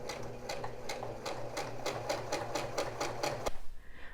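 A sewing machine stitches the fabric of a reusable gift bag, its needle running in a steady rapid rhythm of close, moderately loud beats for a few seconds before stopping abruptly.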